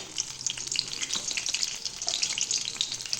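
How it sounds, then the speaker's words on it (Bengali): Dried red chillies and bay leaves fry in hot oil in a pan, giving a steady, soft sizzle with light crackles and no talk. "আর দিয়ে দেব তেজপাতা, দিয়ে একটু লাল করে ভেজে নেব"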